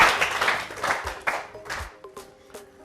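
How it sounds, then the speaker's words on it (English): A school class claps for themselves during a math lesson, a short burst of near, bright rhythmic clapping that thins out into scattered claps and fades. "Clap for yourselves."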